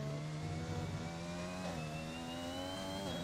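A Formula 1 car engine in F1 2021 is held at full throttle, its RPM capped by traction control. It gives a steady, sustained high-pitched whine that stays nearly flat with slight wavering, heard alone.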